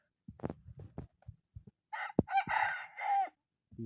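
A labuyo (wild junglefowl) rooster crows nearby, one drawn-out call following a few soft clucks and taps, in an otherwise quiet setting.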